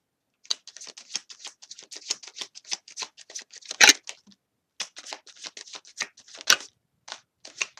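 Tarot cards are shuffled by hand in close, crisp flurries of quick papery flicks and taps, with a short pause midway and no talk.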